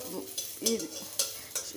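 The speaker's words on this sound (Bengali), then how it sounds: "শুকনো মরিচটা টালা হয়ে গেছে প্রায়ই আদাটাও ভাজা হয়ে যাচ্ছে" Oil sizzles steadily in a pan as dried chilies and ginger fry and are stirred, with a few sharp scraping strokes close by.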